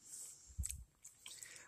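Faint, close chewing of a chocolate-coated Swiss roll cake with a slightly crunchy, crumbly shell and soft sponge inside, a couple of soft moist bites over a quiet background.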